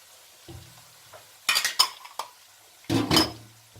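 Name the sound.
cumin and onions being fried and stirred in a pan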